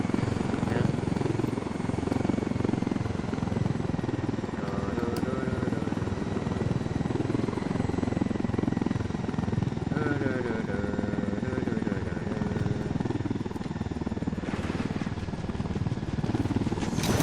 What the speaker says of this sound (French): on pose l'hélico